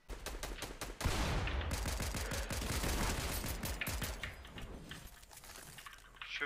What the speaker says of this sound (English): Yep, they're shooting at us at this place.